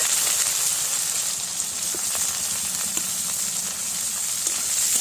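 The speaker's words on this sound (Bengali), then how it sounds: "পেঁয়াজটা একটু লাল লাল করে ভেজে নেব" Chopped onions frying in oil in a pan until reddish, with whole cumin, dried chilli, whole garam masala and crushed garlic, giving a steady close sizzle and hiss with faint stirring clicks throughout.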